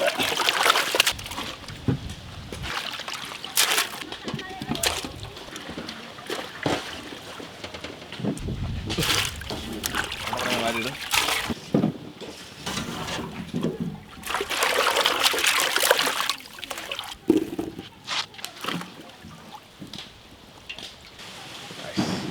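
Fruit being washed in water for a jelly cake, repeated splashing, trickling and sloshing in bursts, with people talking intermittently over it.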